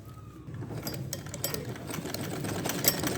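A sewing machine stitches all the way around a child's bloomer to give the leg openings a finished edge. The motor whirs steadily and close by for the whole stretch, rising slightly and carrying a light mechanical clatter.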